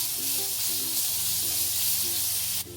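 Curry leaves and turmeric sautéing in hot oil for a Maharashtrian kat amti, a steady close sizzle with faint background tones throughout.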